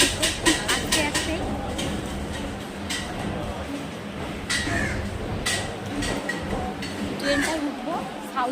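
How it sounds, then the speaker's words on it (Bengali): Moderate rumble and clatter of a South Indian passenger train near Kalyanpur, with intermittent clicks and knocks over a busy background of indistinct voices. "ট্রেনটা উঠবো, সাউথের ট্রেন।"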